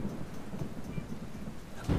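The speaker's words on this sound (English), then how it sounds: "And all of a sudden it started thundering" A thunderstorm sound effect with heavy rain, deep rumbling thunder rolling steadily under a dense hiss of rainfall and swelling louder at the end.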